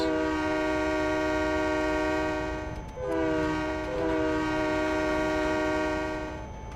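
Heavy freight train rolling through a snowy railway layout in a video game, passing a town district, with a loud sustained multi-tone horn blaring almost continuously over a steady low rumble of wheels.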